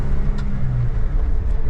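Suzuki Jimny JB33 driving in second gear at about 40 km/h, a steady low engine drone and road rumble continuing throughout from inside the cabin, with no talk.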